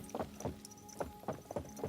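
A horse walks in Kingdom Come: Deliverance 2, its hooves clip-clopping in an even rhythm of about six distinct, fairly close knocks over a low background hum, with no voices.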